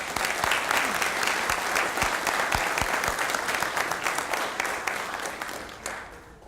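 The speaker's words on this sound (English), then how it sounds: "Let's give her another round of applause." An audience at a Texas Main Street Program dedication applauds the First Lady of Texas, dense clapping from many hands with a few sharp near claps, fading away at the end.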